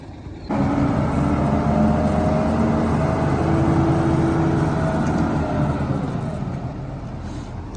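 Concrete trucks at a bridge construction site in Mirpur, Azad Kashmir, their heavy engines starting up suddenly and then holding a loud, steady rumbling drone with a low hum as the vehicles move off.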